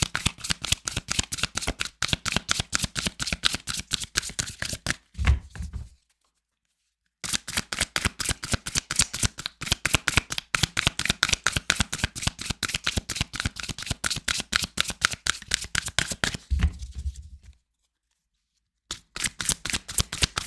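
A deck of tarot cards being shuffled over and over, a dense run of crisp riffling flutters, loud and close, broken by two short silent pauses.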